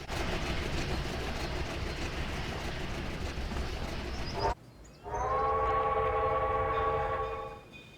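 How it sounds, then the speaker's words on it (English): A train moves under an overpass and through a railroad crossing, its steady rumble cut off abruptly, then a loud sustained multi-tone horn blast sounds nearby before fading. "We catch up with the train once more as it heads under an overpass and through a railroad crossing."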